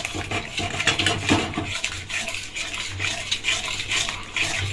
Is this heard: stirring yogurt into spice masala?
yes